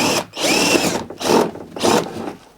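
Power drill widening the water drain holes on a Tesla Model 3, three loud whirring bursts of about half a second each separated by short pauses, close up with no talking.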